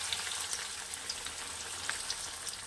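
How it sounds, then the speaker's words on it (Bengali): Onions deep frying in oil for birista give a continuous, moderately quiet bubbling sizzle with a scattering of small crackles, steady and without any voice over it. "আমি এটাকে বেরেস্তা করে ভেজে নিয়ে"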